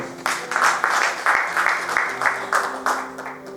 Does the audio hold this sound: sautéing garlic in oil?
no